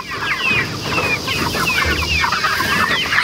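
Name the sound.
chickens clucking on new grass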